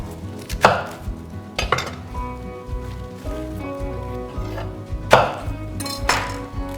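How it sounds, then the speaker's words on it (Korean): A knife cuts into a napa cabbage for white kimchi, a few sharp, close chopping thuds spaced about a second apart, with soft leafy rustling and a faint low hum between them. "그리고 요 끝에다가 칼집을 한번 다시 이렇게 넣어주세요."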